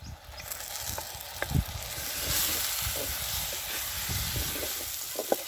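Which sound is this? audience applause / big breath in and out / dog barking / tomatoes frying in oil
tomatoes frying in oil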